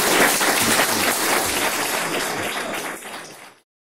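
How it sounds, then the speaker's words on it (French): Audience applause for a guest speaker at a lecture, dense close clapping from a full room that holds steady and then tapers off before stopping abruptly. "je pense qu'il y a un applaudissement pour notre invité"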